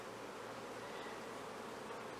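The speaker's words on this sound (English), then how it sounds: "We will just gently shake some of the bees from that, just to clear them." Honey bees shaken off a queen-rearing frame in tropical beekeeping make a steady, dense, close buzzing drone with no pauses.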